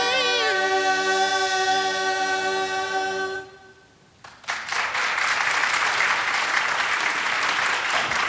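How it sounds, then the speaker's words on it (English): After a held sung chord at a student leadership awards event, the music stops, a brief pause follows, and then the audience breaks into loud, sustained applause. "One more time, let's give them another round of applause."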